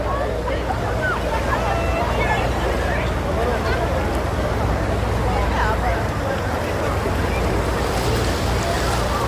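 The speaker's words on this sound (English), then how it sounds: "Tidal wave pool." Waves surge through a tidal wave pool at a Mountain Creek water park, a steady loud wash of churning water with no break, while crowd chatter and excited voices carry underneath.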